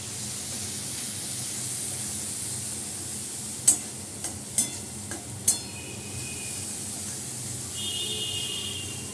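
Fried shrimp sizzle quietly in a pan after turmeric and chili powder are added, under a steady low hiss broken by a few sharp clinks of a utensil in the middle.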